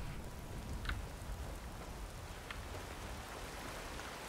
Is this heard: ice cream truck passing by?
no